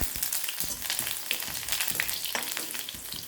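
Mustard seeds, cumin and urad dal splutter in hot oil, a dense, steady crackle of sizzling with sharp little pops scattered throughout, close and loud.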